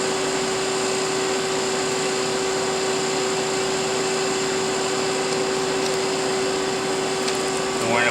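A March Instruments PX-250 plasma etcher's vacuum pump runs during a pump-out stage, a loud, steady mechanical drone with a strong constant hum tone. It continues unchanged from start to finish.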